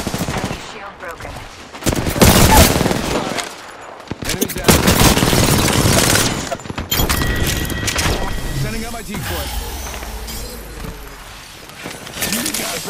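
Rapid automatic gunfire rattles through a video game shootout in bursts, loud and close, with shield-break crackles and impact clatter. Game voices and a player's talk run underneath.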